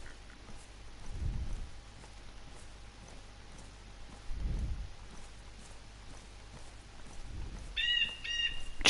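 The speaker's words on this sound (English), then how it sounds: "Loud bird." Loud bird call ringing out in a rainy woodland within the survival game DayZ, heard as a sharp cluster of bright chirps near the end over steady rain patter and occasional low thumps.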